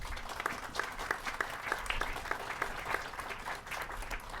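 Applause from a modest outdoor crowd at a housing redevelopment groundbreaking ceremony in Louisville, moderately faint, with individual claps audible in a steady, uneven rhythm and no talk over it.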